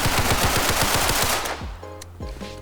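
A gun in ROBLOX Criminality fires a rapid burst of about a dozen evenly spaced sharp shots, loud and close. Then comes a quieter stretch with a few metallic clicks and faint tones.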